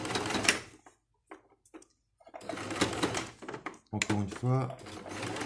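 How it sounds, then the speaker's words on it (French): A sewing machine stitches elastic onto a fabric face mask in short runs of rapid stitching that alternate with pauses, while someone talks between and over the bursts. "je vais tendre comme ceci, pendant que je couds"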